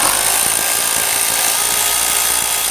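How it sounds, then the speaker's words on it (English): A power tool with an 8mm socket loosens the air intake hose clamp on a 2011-2023 Dodge Charger, a loud, steady whirring drone that runs unbroken from start to finish. "We're going to use a 8mm socket on the air intake hose."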